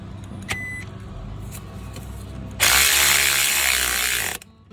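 A ratchet tightens the 14 mm lower alternator bolt on a 2011 Toyota Corolla, with faint mechanical ticks at first, then a loud, sustained run of rapid ratcheting that stops abruptly.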